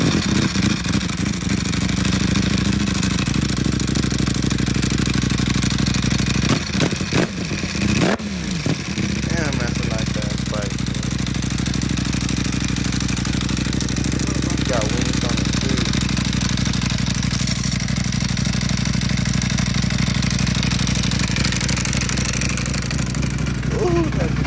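Kawasaki Ninja H2R motorcycle engine with an oil leak, starting up and then idling with a loud, close, steady rumble and a few revs, while people talk over it.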